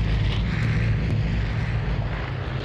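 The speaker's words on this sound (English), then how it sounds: "I thought there's a loud ass plane near me." A steady, loud low drone of an airplane flying overhead in the game Vigor, a continuous rumbling roar with no breaks and no speech.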